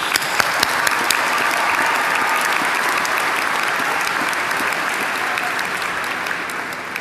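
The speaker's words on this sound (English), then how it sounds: "So let's give a round of applause for all parents and families." Commencement audience applauding for parents and families at a university ceremony, a dense sustained wash of clapping from a large crowd that holds steady throughout and fades slightly at the end.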